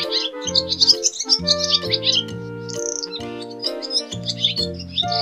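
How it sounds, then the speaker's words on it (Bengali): A dove in a tree gives bright, repeated chirps and tweets over melodic background music, close and lively throughout. "ঘয়ে ঘুঘু পাখি ডাকছে গাছে।"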